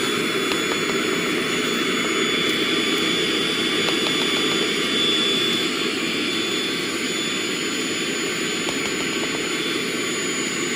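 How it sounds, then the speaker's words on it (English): A vacuum cleaner runs with a steady, loud, unbroken roar while sucking dust out of a travertine floor during repair, the whine constant throughout with no voices. "Then we'll vacuum out the dust."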